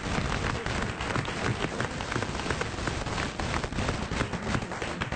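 A studio audience applauds on a television talk show, dense and continuous clapping that fills the whole stretch at an even level, with no voices over it.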